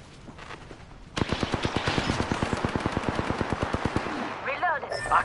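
Automatic gunfire in the Apex Legends battle royale game: a sustained rapid string of evenly spaced shots, loud and close, follows a quieter opening, with a few trailing sounds at the end.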